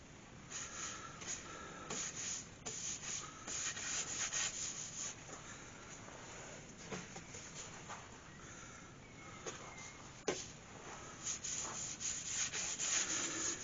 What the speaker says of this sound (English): So that's been sanded down.